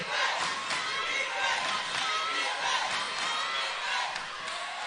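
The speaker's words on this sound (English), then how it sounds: "And the crowd is getting into it," A crowd at a high school basketball game between Apopka and CFCA cheers and shouts in a sustained, loud roar, with bursts of whoops rising over the din.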